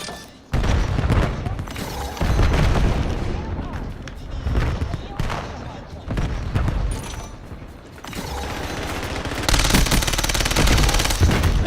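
Rapid automatic gunfire in the shooter game Black Ops 7 on the Nuketown map, dense sustained bursts with brief lulls, loud and close, with a voice talking at times.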